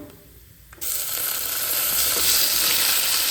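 Chopped capsicum and tomato with turmeric hit a hot pan, and after a short quiet moment a loud, steady sizzle of frying begins and continues alone to the end.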